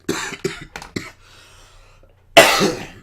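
A person coughs several times in a quick series, pauses, then lets out a longer, harsher cough, close and loud.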